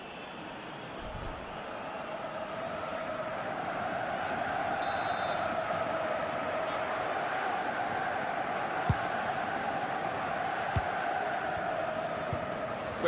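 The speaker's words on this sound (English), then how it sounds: "Crowd are telling him to have a crack" A stadium crowd in a Portugal vs France football video game keeps up a steady roaring cheer and hum, loud and unbroken for the whole stretch, with a few faint knocks near the end.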